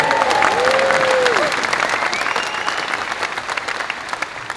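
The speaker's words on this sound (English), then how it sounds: "Yeah, you can clap for that." Audience at a Reform UK party conference applauding an MP's speech, dense sustained clapping from a large crowd throughout, with faint cheers and a voice briefly heard near the start, slowly fading.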